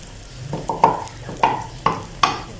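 Omelet pizza cooking on very low heat in a pan, a soft steady sizzle broken by four or five sharper scraping stirs at regular intervals, close and alone.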